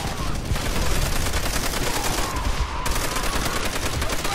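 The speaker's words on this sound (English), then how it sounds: "there's just explosions everywhere" Dense, continuous gunfire and explosions from the video game Call of Duty: World at War roar loudly throughout, with overlapping bursts and no pause.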